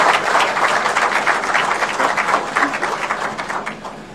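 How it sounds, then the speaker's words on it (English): Audience applause for the President at the Safaricom Ziidi Trader launch at the Nairobi Securities Exchange in Nairobi: dense, steady clapping from a crowd that holds throughout and thins slightly at the end. "So we can give him a round of applause."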